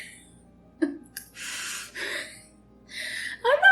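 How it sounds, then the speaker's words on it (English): A person takes a deep, audible breath close to the microphone, a sharp gasp followed by a long inhale and a drawn-out exhale, with a snort-like catch at the end. "Deep breath"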